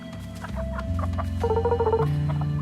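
Round chickens cluck in the guitar-themed role-playing video game Fretless, with a run of short, bright clucks and chirps over a melodic game music backdrop, fairly close and without talk.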